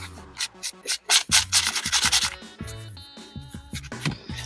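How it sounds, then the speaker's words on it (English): Brush scrubbing gunk off the bolt group of a SIG Sauer Rattler rifle chambered in .300 Blackout, a series of quick close rasping strokes, fast at first, then slower scrapes. "So now I'll take my brush, if I can find it, and just brush all this stuff off."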